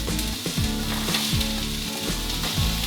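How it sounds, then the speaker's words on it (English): Garlic and onion frying in a pan for a stir fry, a dense, steady sizzle close up with soft scraping and stirring at regular intervals throughout. "Just letting that fry for a minute."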